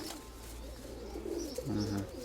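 Pigeons bred for beauty and flight give low rolling coos in a loft, a brief clearer call near the end against a steady noisy background.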